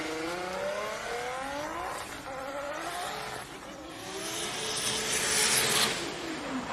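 A drift car at a Drift Kings Asia Cup round in Malaysia revs hard, its engine rising and falling in repeated sweeps while tires squeal and scrub, loud and fairly close, building toward the end.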